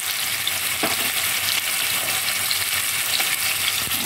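Potato pieces seasoned with salt and turmeric fry in hot oil in a pan, giving a steady close sizzle with a few sharp crackles and faint stirring scrapes, no one talking.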